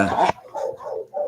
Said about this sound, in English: He's being left out of the barking frenzy outside.